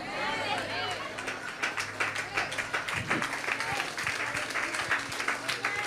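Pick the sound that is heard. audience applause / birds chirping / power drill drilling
audience applause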